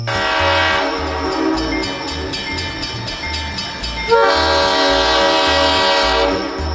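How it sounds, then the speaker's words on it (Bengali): A loud, sustained train horn blares as a train departs a station, over rhythmic rumbling and clacking of the moving train, cutting off briefly then sounding again. "ট্রেনটা একটা কান ফাটানো হর্ন দিয়ে স্টেশন ছেড়ে বেরিয়ে যায়।"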